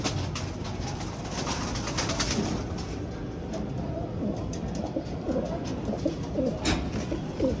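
Pigeons coo softly and repeatedly within a loft of breeding birds, the low murmuring calls layered over a steady hum of background noise with no clear talk.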